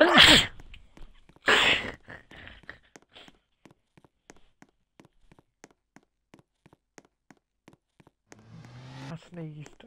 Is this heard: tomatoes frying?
no